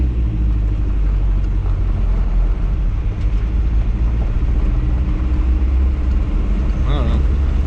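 An old Toyota creeping slowly over rocks while rock crawling, its engine giving a steady low rumble throughout, with a person talking over the engine noise.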